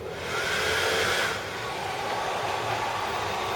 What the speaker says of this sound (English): Right, hairdryer on.